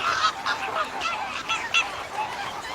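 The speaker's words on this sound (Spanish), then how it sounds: "Escucháis a cientos de flamencos en su grabación de la Laguna de la Tancada" Hundreds of flamingos calling at Tancada lagoon in the Ebro Delta, a nasal, goose-like honking chorus with repeated overlapping calls, moderately loud and close.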